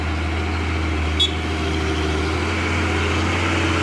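A Hino 500 truck engine idles with a steady, even low rumble close by, with no speech.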